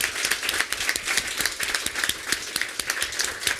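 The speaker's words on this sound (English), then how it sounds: "can we have a round of applause" An audience claps together after talks at a Google-hosted event, a dense, lively ovation that stays loud and even throughout the short stretch.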